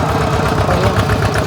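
A tractor engine runs at a steady, rough idle, its low, continuous rumble close and loud throughout, with no voices over it.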